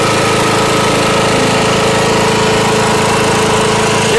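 A charcoal gasifier engine generator runs at a steady, loud, close-up drone with a constant chugging rumble and no pauses.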